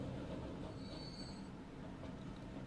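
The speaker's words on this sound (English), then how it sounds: "We've successfully gotten a train to the next station." A train pulls into a station in the video game Transport Fever, its wheels giving a faint, thin squeal above a soft, steady rumble, distant and continuous, with no voices.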